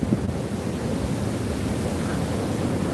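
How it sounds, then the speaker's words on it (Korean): Ocean waves wash in at Naksan beach at night, a steady low roar of surf mixed with wind buffeting the microphone, continuous and fairly loud with no distinct breaks and no talking. "파도 소리만 들으셔야 되겠다."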